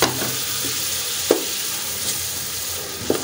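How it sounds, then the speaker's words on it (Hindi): Chicken mince sizzles steadily in a pan as tomato paste goes in, with a few scraping stirs standing out over the continuous loud frying hiss. "अब इसके साथ ही इसके अंदर टमाटर डाल देने, बिस्मिल्लाह, जो पेस्ट बनाई हमने टमाटरों की,"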